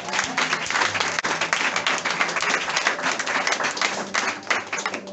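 A church congregation at a Sunday worship service applauds, giving a dense, sustained burst of clapping from many hands close by that runs throughout without pause.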